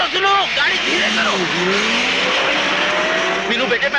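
A car driven fast hurtles along with a loud, strained engine whine and squealing tyres, pitch sweeping up and down as it swerves, over steady road roar.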